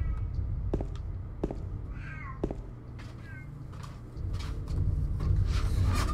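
A cat in the Silent Hill 2 video game meows at a door, two short, clear mews over a low, rumbling ambient drone.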